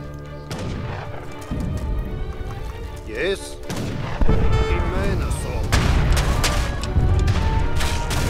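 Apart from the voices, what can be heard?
cannon fire in the video game Age of Empires 3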